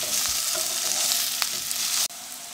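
Radishes frying in oil in a pan as a keto potato substitute, a close steady crackling sizzle with a faint click before it cuts off abruptly near the end.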